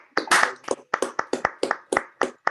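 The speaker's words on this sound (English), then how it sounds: "Let's give our staff a big round of applause" Small group clapping for staff at a city Board of Aldermen meeting, with about ten distinct loud, close claps in an irregular rhythm and no talk over them.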